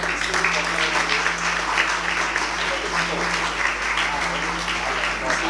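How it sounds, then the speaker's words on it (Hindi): An audience at a school felicitation ceremony for SSC and HSC toppers applauds with steady, dense clapping from a crowd that holds throughout, over a low hum. "बेटा ताली बजाइए हमारे"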